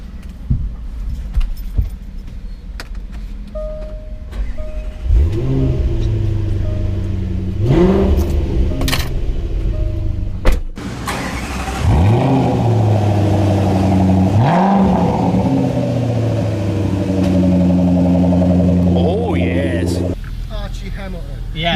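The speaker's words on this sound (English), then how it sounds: "Give it a rev." A car with a newly fitted exhaust revs several times nearby, each rise and fall of the engine note distinct and loud, while people talk over it and keys jangle close by.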